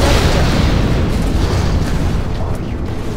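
A nuclear missile launches and detonates in Command & Conquer Generals Zero Hour, a loud, continuous roaring rumble that fills the whole clip and slowly fades toward the end.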